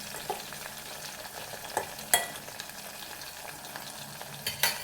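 Green chillies fry in a pan with soft, crackling sizzle and a few sharp pops and stirring clinks, no talk.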